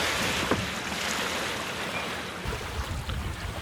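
A sailboat heads through open sea toward Cairns, with steady broadband wind and wave wash roaring around the hull the whole time and no voices.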